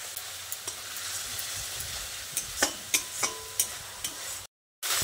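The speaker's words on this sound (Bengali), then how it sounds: "এবার সব কিছুকে একসঙ্গে ভালো করে কষিয়ে নিতে হবে।" Tomato fries with salt, Kashmiri chili powder and turmeric while it is stirred for a Bengali potato and pointed gourd curry, making a soft steady sizzle with a run of scraping stir strokes and a brief drop to silence near the end.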